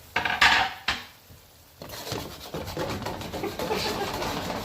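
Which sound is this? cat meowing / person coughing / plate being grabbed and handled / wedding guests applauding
plate being grabbed and handled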